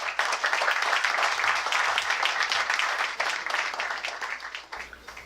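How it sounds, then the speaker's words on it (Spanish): An audience at a book launch welcomes the author with lively clapping, a fairly quiet but continuous patter that fades and trails off over about five seconds. "Por favor, recibamos con un fuerte aplauso al autor Nicholas Nelson."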